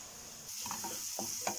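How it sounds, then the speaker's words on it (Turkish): Steady sizzling of mushrooms frying over high heat in a hot pan, close up, with a few soft stirring scrapes breaking through the hiss. "Şimdi mantarlarım kavrulurken diğer sebzelerimizi doğrayalım."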